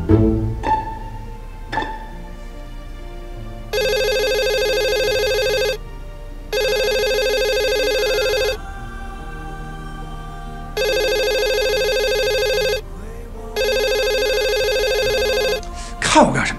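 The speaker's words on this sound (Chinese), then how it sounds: "看我干什么？接电话呀。" A telephone rings loudly in four long, evenly spaced electronic bursts separated by short pauses, with brief speech and movement at the start and end.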